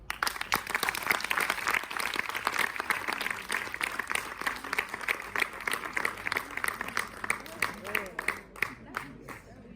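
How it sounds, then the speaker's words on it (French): Audience clapping at a concert for a 20-year-old classical singer, brisk and fairly loud, with voices over it. "Je vous demande d'applaudir Mathias Sylvestre de 20 ans."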